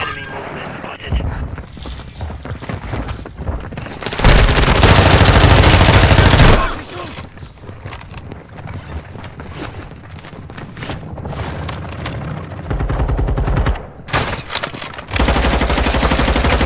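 Loud rapid gunfire in the DMZ video game, machine-gun bursts and single shots crackling close by in long volleys, with brief pauses and a game voice speaking at times.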